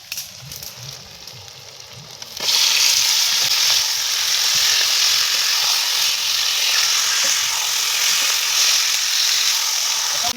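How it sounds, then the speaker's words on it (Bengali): Poultry meat hits a pan of onions fried red-brown, for a chicken and bitter gourd dish, and the quiet kitchen bursts into a loud, steady sizzle that holds on continuously. "পেঁয়াজ খান লাল লাল করে ভাজা হয়ে গেলে এই সময় আমরা দিয়ে দেবো পোলট্রির মাংস খান"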